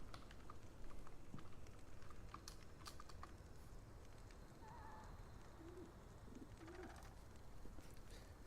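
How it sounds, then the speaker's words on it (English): A computer keyboard clicks in short, sparse bursts of typing on Discord, quiet and close, while a pigeon coos softly in the background. "I'm just typing on Discord"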